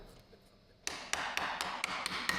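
A filled chocolate mould is rapped against a counter to settle the chocolate, six or seven sharp knocks at an uneven pace after a quiet start, close and clear.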